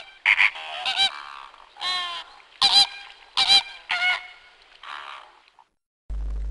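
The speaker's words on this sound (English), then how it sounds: "Flamingo." Flamingos calling in a run of about six loud, honking, goose-like bursts, each nasal and harmonically rich, with short pauses between them and no other sound around.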